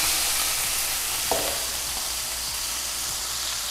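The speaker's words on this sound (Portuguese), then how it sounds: "nós vamos dar uma douradinha, uma fritadinha aqui, ó. Um pouco de azeite." Meatballs fry in olive oil in a small skillet, giving a steady, loud sizzle and crackle throughout, with a brief clink of a utensil against the pan partway through.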